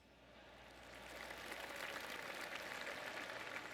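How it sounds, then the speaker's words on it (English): Faint, scattered golf claps from a distant crowd around a course in a golf video game swell slightly and continue as a soft, steady patter. "I can hear the golf claps around the course."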